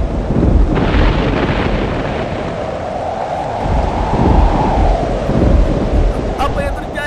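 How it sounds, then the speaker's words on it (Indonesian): A sudden storm sweeps in from behind a ship at sea, with strong wind roaring steadily alongside surging waves and deep rumbles. The loud, continuous wash swells and eases without a break for the whole stretch. "Badai tiba-tiba datang dari arah belakang kapal"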